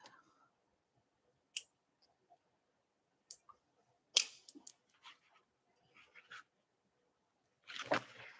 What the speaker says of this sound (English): I just kind of snip and snip.